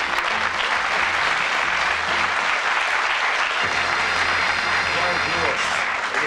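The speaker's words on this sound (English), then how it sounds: "Give them a nice round of applause." A studio audience at the Bullseye game show applauds loudly and steadily, a dense, unbroken wash of clapping that lasts the full six seconds.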